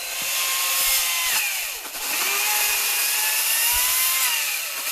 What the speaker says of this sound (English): Actual chainsaw ASMR.